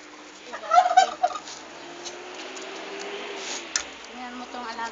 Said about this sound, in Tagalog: Ito naman mga alaga ko, manok.